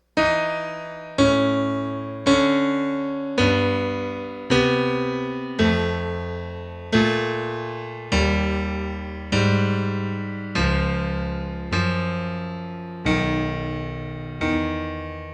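Sustained jazz keyboard chords struck one after another at an even pace, each ringing and fading before the next, stepping through a repeating major seventh chord cycle.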